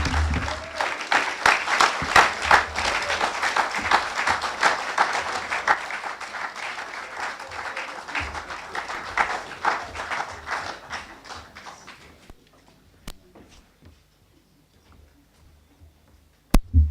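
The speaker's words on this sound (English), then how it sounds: "Let's give Gabby another round of applause." Audience applause at a lecture theatre naming ceremony, dense sustained clapping from a crowd for about twelve seconds that then thins to a few scattered claps and quiet.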